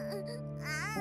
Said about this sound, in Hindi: बच्चे की रोने की आवाज नहीं आ रही?